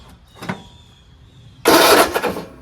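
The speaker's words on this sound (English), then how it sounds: "Wow, it cranks." An old hydrostatic lawn tractor's small engine cranks loudly in a dense burst of about a second near the end, after a brief faint click and quieter rattling earlier.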